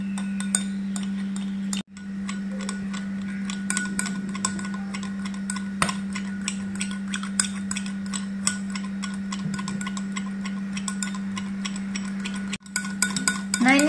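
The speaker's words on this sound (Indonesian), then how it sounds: "kemudian di sini saya akan aduk terlebih dahulu supaya tercampur dengan rata" Spoon stirring a mixture of egg, honey and ginger, with rapid steady ticking clinks against the container over a constant low hum, briefly pausing twice.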